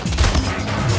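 A shotgun fires in the Splitgate video game, a dense, loud burst of gunfire crowding the whole moment, with no clear gap between blasts.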